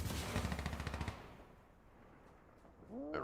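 Rapid automatic gunfire from Insurgency: Sandstorm, a dense burst of rounds lasting about a second, loud and close, then a quiet tail with faint game sounds.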